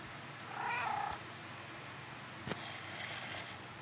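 A cat in the video game Minecraft gives a short, tonal meow-like call over a steady background hiss, followed later by a single sharp click.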